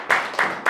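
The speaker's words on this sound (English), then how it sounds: "Can you clap for that" Congregation in a church service clapping in three short bursts, a dense wash of hands swelling and fading with brief gaps between, moderately loud and close with no talking.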